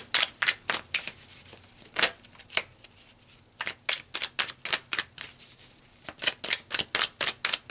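Tarot cards being shuffled and pulled, a run of crisp, close riffling flicks coming in quick rhythmic bursts with brief pauses, quiet and with no talking.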